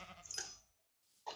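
Sheep bleating in Minecraft, a couple of short, fairly close bleats separated by a brief quiet gap, with no talking over them.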